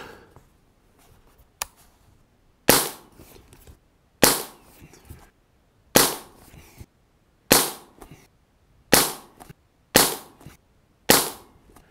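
A series of sharp shots from a Hammerli 850 .22 CO2 air rifle firing pellets at a 25-yard target, about eight in all, each followed by a short decay, with quiet pauses between.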